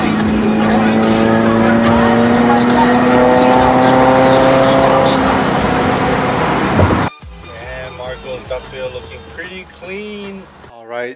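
A widebody Nissan 370Z drives with a loud, steady engine drone whose tones climb as it accelerates for about seven seconds. The sound then cuts abruptly to a quieter stretch with a voice over a softer background.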